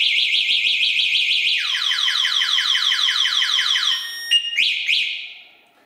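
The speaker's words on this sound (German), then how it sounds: "Damit ist er abgeschlossen und die Alarmanlage ist aktiviert." An electric scooter's alarm system sounds a rapid warbling siren tone, shifting pitch partway through, then a few short chirps before fading out.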